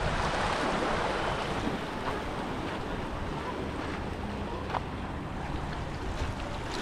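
Surf washing in at Ya Nui beach in Phuket, Thailand: a steady, loud wash of broadband noise with some wind buffeting the microphone, continuous throughout with no voices.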